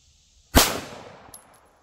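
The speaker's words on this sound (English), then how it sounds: "I guess I'm limp wristing it, shooting it off this rest." One sharp, loud pistol shot from an AIM Surplus SCT Glock 17 clone fired off a rest, cracking close by and then ringing out in a decaying echo, with a faint metallic clink just after.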